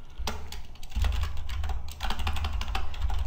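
Fast, close clicking of computer keyboard keys in an irregular burst, with a brief pause near the middle, over a low steady hum.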